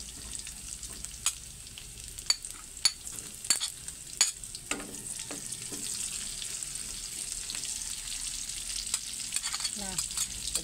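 Garlic and onion fry in a pan alongside meat cooking at the edge, with no extra oil added. A steady close sizzle runs throughout, broken by scattered sharp clicks and spatula taps.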